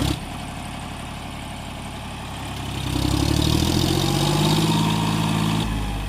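A tractor engine runs steadily, idling low at first and then revving up to a louder, rougher chug that holds to the end.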